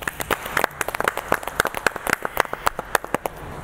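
Applause for the Indian team, a short round of clapping from a few people nearby, sharp separate claps at a brisk uneven rhythm with no talk over it.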